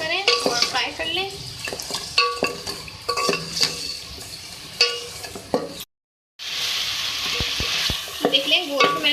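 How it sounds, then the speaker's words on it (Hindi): Beef with ginger garlic paste stirred and fried in a pan for beef masala: close, rhythmic spatula clatter and scraping over a frying sizzle, a brief moment of silence, then a louder, steady sizzle with more stirring knocks. "गोश्त में मैंने डाला था अदरक लहसुन का पेस्ट और उसको अच्छे से मैंने इसमें फ्राई किया था।"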